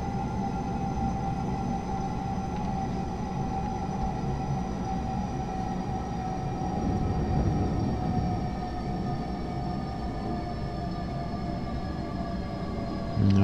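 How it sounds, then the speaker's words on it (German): A BR 474 S-Bahn electric train in Train Simulator 2018, on the Hamburg S1 line, hums steadily with a sustained whining motor tone and rumbling running noise, continuous and loud with no talk. "Na, wir fahren mit ziemlich hoher Geschwindigkeit in den Bahnhof ein."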